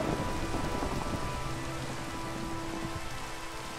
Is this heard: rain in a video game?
yes